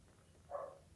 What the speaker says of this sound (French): je kiffe quand elle ronronne